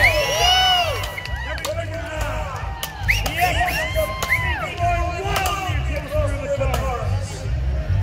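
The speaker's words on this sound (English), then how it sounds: "Give them a round of applause" A lively Oktoberfest crowd in Adelaide whoops and cheers in excited, overlapping voices, with shouts rising and falling over a constant low rumble.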